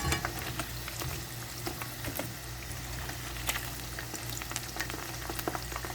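Marinated chicken deep-fries in a pan of hot oil, making a loud, continuous bubbling sizzle with crackling pops throughout.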